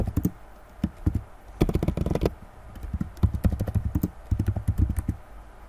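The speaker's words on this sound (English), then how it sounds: "Now let's try to type something in here." Keys on a computer keyboard are tapped in bursts and short runs, close and fairly quiet, with brief pauses between clusters of clicks.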